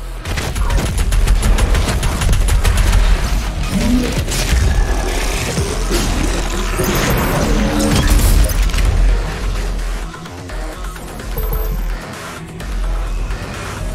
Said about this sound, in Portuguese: o bicho morreu na explosão